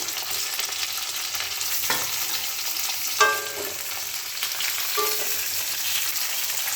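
Pumpkin pieces sizzle and fry in a pan for spinach ghonto, a steady crackling hiss broken by a few close scrapes and clinks of stirring.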